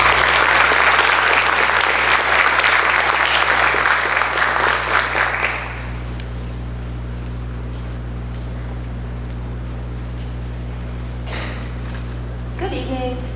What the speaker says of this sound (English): Please give a round of applause for Maggie.